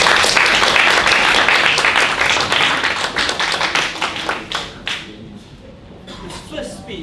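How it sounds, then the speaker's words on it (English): Audience applause at an evening speech-evaluation club session: loud, dense clapping at first that thins into scattered individual claps and dies away over about five seconds, ending in near quiet. "Let us again give a round of applause"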